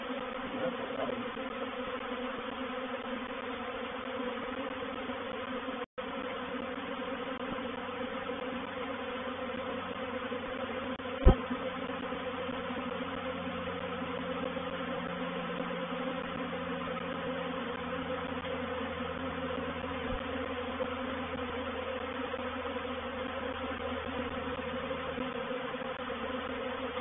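A honey bee swarm moves into a hive box from a thriving colony, making a continuous low, even insect hum throughout, faint and band-limited, with one brief sharp click partway through.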